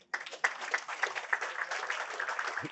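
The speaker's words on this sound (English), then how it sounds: "while I'm doing this, you can give an applause" Audience applause at a talk on large language models in healthcare, a short burst of clapping of steady moderate loudness after a sudden start.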